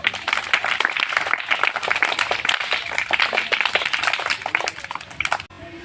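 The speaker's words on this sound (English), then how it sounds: "Clapping." Children clap together at a school morning assembly, a dense, steady patter of many small hands that fills the space for several seconds before cutting off sharply near the end.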